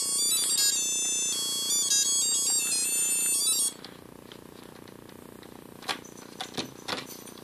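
Tiger Aladdin handheld LCD game beeping out a shrill electronic tune of rapid high tones for a few seconds, then stopping, followed by faint button clicks and small handling taps.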